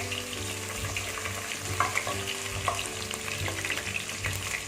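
Garlic and small onions fry in oil for a Tamil fish curry, making a dense, continuous crackling sizzle with a low hum beneath and occasional stirring knocks, close and steady, with no talking.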